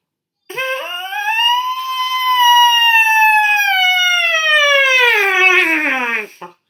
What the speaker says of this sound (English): now I have an idea of what I can actually do when I buzz on my mouthpiece